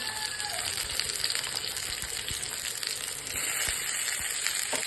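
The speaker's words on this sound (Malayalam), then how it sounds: "കുറച്ച് കുറച്ച് വെളിച്ചെണ്ണ വെച്ച് കൊടുക്കുന്നുണ്ട് ചെറിയ ഉള്ളി ഇട്ട് കൊടുക്കുന്നുണ്ട് വറവിടാൻ" Small onions frying in coconut oil for a tempering for crab curry, a steady close sizzle throughout with scattered soft crackles and pops and no voices.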